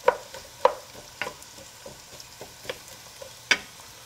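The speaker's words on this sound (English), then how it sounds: "While the onion is getting sauteed" Onion sautéing in a pan for a jeweled rice meat stew, with a faint sizzle under sparse clicks and scrapes of stirring, a few sharper knocks standing out.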